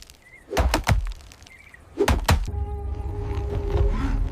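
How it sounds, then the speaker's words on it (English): Hard wooden knocks of branches banged against rocks strike in two quick clusters, sharp and close, followed by a rumbling, humming background. "bang branches against the rocks, creating a deafening noise."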